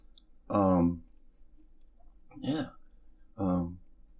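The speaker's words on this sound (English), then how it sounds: "I'm trying to burp." Three short throaty belch-like bursts from a man after eating subs, close and loud, spaced a second or so apart with quiet between them.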